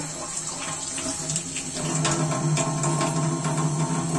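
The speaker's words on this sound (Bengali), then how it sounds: "আমি আর একটু পানি অ্যাড করবো এতে" Water pours steadily into a pot of Bengali lentil dal with added vegetables, a continuous splashing stream running alone and growing slightly louder partway through.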